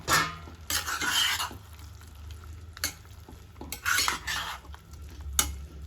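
Fried potatoes and cauliflower are stirred into masala, with bursts of a spoon scraping and clinking against the pan over a low, faint sizzle, in irregular strokes separated by quieter gaps.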